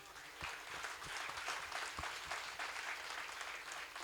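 Audience applause at a felicitation event in Mumbai, faint and distant, a soft patter of scattered clapping with a few sharper individual claps standing out.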